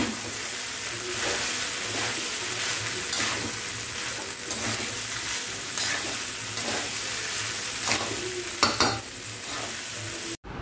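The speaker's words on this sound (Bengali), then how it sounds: "বাদাম ভাজা" Peanuts frying in a pan, giving a continuous dense sizzle with intermittent scraping stir strokes throughout and a louder clatter near the end, with no voices.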